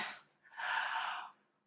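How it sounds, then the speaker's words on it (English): A brief breathy inhale followed by a longer, airy open-mouthed exhale, close and fairly quiet, like a single voiced yawn. "Yawn sound."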